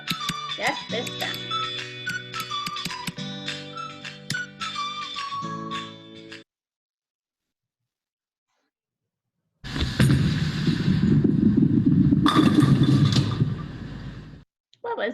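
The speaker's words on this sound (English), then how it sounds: "Yep, a bowling strike." A bowling ball strike sends pins crashing in a long, loud, roaring clatter with a sharp burst partway through, coming after an earlier stretch of other sounds and a gap of silence.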